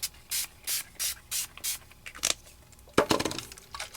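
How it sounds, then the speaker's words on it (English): Glimmer Mist mica color spray bottle sprayed onto a sugar skull art card in six short, even hissing bursts, close and crisp, followed by quieter rustling and tapping of handling. "I'm going to spray this to kind of give it some color"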